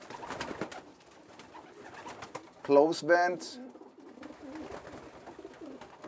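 A racing pigeon gives a brief, close cooing burst while being handled during an interview, with people talking around it and soft handling noise.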